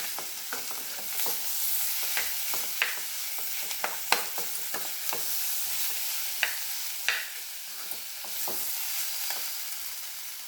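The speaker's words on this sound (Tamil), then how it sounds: "அதையும் நல்லா ஒரு கிண்டு கிண்டு எண்ணெயிலே லேசாக ஒரு வதக்கினோம்னா நல்லா வாசனையாக இருக்கும்" Mashed potatoes being stirred and sautéed in oil for poori masala, a steady sizzle punctuated by sharp, irregular spoon scrapes and taps against the pan, close by, with no talking.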